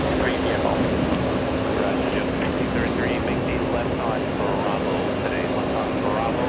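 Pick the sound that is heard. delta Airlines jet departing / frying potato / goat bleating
delta Airlines jet departing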